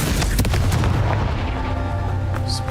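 A Confringo fire spell in Hogwarts Legacy bursts with a series of sharp booming impacts at the start, followed by a rumbling tail and game sound effects fading out.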